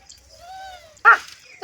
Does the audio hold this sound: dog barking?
yes